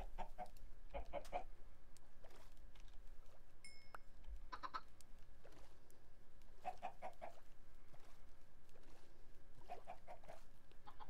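Minecraft chickens in a German Let's Play video game, short soft clucks in several separate bursts, quiet and alone with faint game background.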